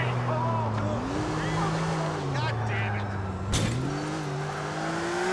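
A car in the video game GTA IV runs at full throttle, its engine droning loud and steady with pitch that climbs, dips and climbs again through gear changes, while someone talks over it.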